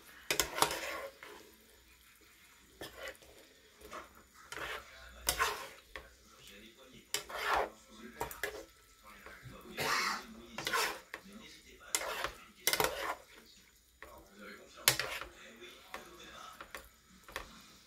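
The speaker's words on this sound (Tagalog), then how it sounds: "Haluin po uli natin." Chicken simmering with 7up in a pan is stirred, with repeated sharp scrapes and clinks of a utensil against the pan at an uneven rhythm, close and fairly loud, with a faint sizzle between strokes and occasional soft speech.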